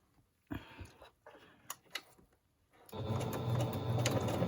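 A sewing machine straight-stitches around a fabric collage, starting after a few soft taps and rustles and then running steadily and fairly close for the last second and a half.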